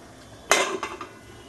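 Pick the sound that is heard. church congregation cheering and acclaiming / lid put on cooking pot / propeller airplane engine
lid put on cooking pot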